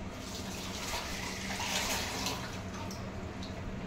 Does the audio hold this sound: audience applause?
no